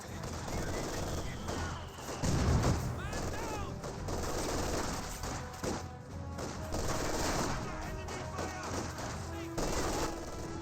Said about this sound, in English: Got now an LMG firing away.